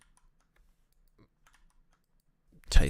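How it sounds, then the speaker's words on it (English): Hard typing on a computer keyboard comes as one brief, loud burst of clattering keystrokes at the very end, after near silence. "Typing hard, apparently."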